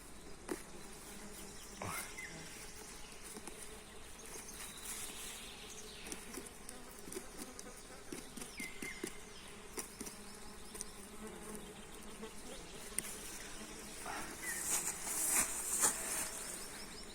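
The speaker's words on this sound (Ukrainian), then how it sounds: "Комарі кусають жахливо" Insects hum steadily around the listener in a damp oak forest in June, a dense, close whine of mosquitoes and flies that rises and falls throughout with no speech.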